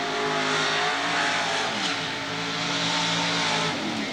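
Drag racing cars at Southeastern Dragway, a carbureted nitrous-injected Ford and a late model Pontiac, loud sustained engine roar with rising and falling revs, close and dense throughout.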